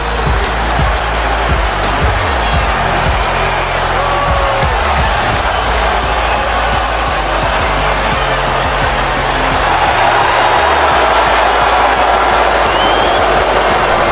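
Crowd booing Roxanne Perez in WWE 2K25, a loud, steady arena roar that fills the whole stretch beneath ongoing broadcast commentary.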